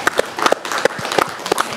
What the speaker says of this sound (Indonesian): Tepuk tangan untuk penjaringan semuanya.